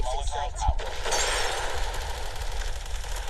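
Rapid bursts of gunfire from a favourite weapon in the Call of Duty Mobile game crackle in quick succession, fairly quiet and short, with a voice faintly mixed beneath.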